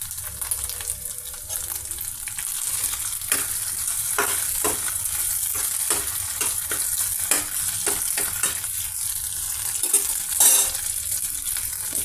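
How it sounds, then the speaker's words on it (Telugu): Garlic pieces and green chilies fry with shallot paste in a pan for a paneer dish. A bright, continuous sizzle is broken by frequent spatula clicks and scrapes, close and loud, with no talking. "వెల్లుల్లిపాయ పీసెస్, పచ్చిమిర్చి ఫ్రై అవుతున్నాయండి."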